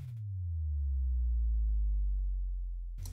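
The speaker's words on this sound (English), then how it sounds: "this little sub drop here, which sounds like this." A sub drop effect in a future bass track: a deep, smooth sine tone that slides down in pitch and holds for about three seconds before cutting off, loud and alone.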